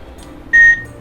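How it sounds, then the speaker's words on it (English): A single short, high-pitched electronic beep sounds in a quiet room, lasting about a quarter second. "she doesn't like these high-pitched beeping sounds"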